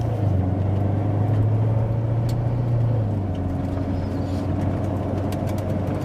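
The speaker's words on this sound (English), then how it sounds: "Gives you an idea of the sound of the exhaust too while we're driving." A 2016 Corvette Z51 3LT exhaust drones low and steady from inside the moving car, with a deep tone that shifts slightly as the engine note changes partway through.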